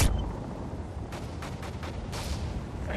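Osprey Gunner fire in Call of Duty Modern Warfare 3 on the Dome map, a quick string of heavy booming shots and crackling impacts, several sharp bursts in close succession over rumbling battlefield noise.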